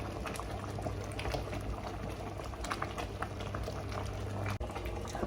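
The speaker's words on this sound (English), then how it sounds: "So I set it on high heat, so it's boiling very vigorously, as you can see." Red currant jam boils vigorously in a pot on high heat, a dense, constant bubbling and popping close up, with no one talking.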